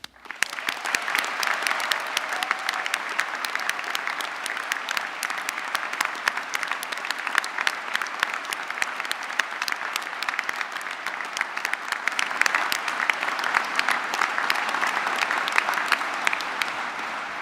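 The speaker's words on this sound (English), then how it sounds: "one final round of applause for everybody" Graduation ceremony audience giving a final round of applause, dense steady clapping from a large crowd that holds at an even level throughout.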